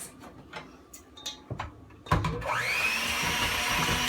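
An electric hand mixer beats cookie dough with a freshly cracked egg, revving up after a few taps and clicks and then holding a steady, close whir to the end.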